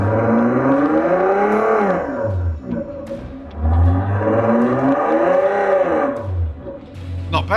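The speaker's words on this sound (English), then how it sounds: "So I think it's set currently to a Lamborghini sound." A Powerflow exhaust sound system plays a synthetic Lamborghini exhaust note through a speaker on a parked car: a loud, continuous rumbling drone that rises and falls in pitch in long swells, with brief dips between them.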